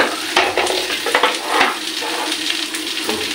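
Lentils fry in a hot pan with a lively, crackling sizzle, broken by repeated scraping stirs and light clatters close by, with no one talking.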